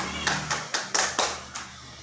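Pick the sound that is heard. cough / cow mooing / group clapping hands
group clapping hands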